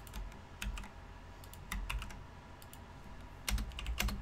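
Someone types on a computer keyboard nearby, with quiet clusters of key clicks separated by brief pauses.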